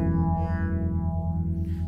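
A sustained tone runs through a phaser with its resonance control raised, holding steady with a gentle, slow sweeping shimmer over the notes.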